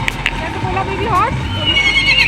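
A baby horse neighs in a short, high whinny close by, with people talking around it.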